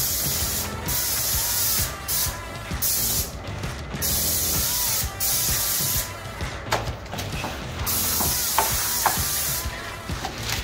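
Spray gun laying a quick coat of paint over Bondo body filler, a steady loud hiss broken by short pauses between passes, close and continuous throughout.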